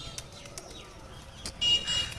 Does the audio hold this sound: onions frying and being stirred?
no